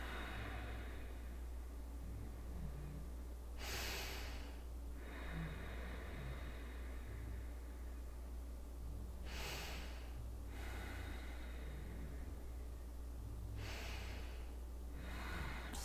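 Yoga student breathing during a leg stretch: slow, audible breaths about every five seconds, each a soft airy rush over a steady low background hum, close and fairly quiet.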